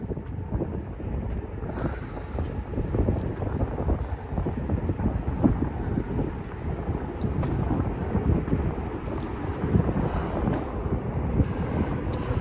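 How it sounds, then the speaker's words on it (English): Wind gusts under a bridge in a low, steady rumbling rush, like air through a tunnel, buffeting the microphone at moderate level with no talking. "Ooh, feels like a wind tunnel in here."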